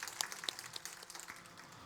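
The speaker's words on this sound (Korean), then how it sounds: "우리 하나님 앞에 감사의 영광의 박수를 한번 올려드리도록 하겠습니다." Churchgoers clap in thanks during a Sunday sermon service, a brief, quiet burst of scattered and overlapping handclaps heard from a distance, with no talking.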